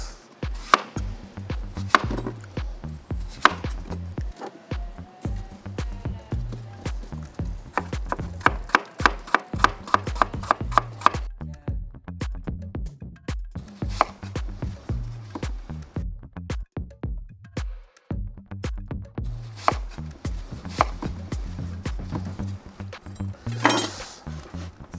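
A knife chops food into cubes on a wooden board, loud rapid knocks in quick runs that pause briefly and then resume, close by and with no talk.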